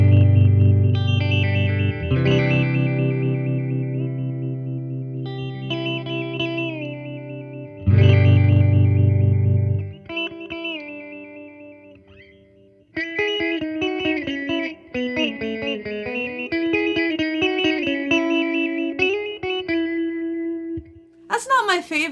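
Electric guitar played through a Catalinbread Many Worlds phaser pedal set to low depth, producing a gentle, shallow sweep over sustained chords and then a run of picked single notes, loud and alone.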